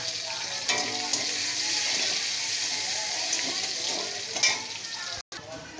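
Garlic cloves and small onions fry in a pan with a steady, close sizzle, with occasional stirring scrapes and a brief clatter near the end.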